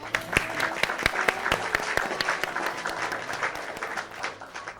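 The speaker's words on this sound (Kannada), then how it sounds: "ನಮ್ಮ ಇಡೀ ವೃಂದದ ಕಡೆಯಿಂದ ಅರ್ಣಗೆ ಒಂದು ಜೋರು ಚಪ್ಪಾಳೆ" A studio audience claps in a burst of steady applause at a televised Kannada poetry and song show, with many hands clapping close together at a fairly even level.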